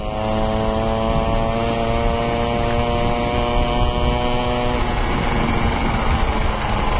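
A Peugeot 103Z moped engine runs at a loud, steady buzzing drone close by and rises slightly toward the end as it speeds up.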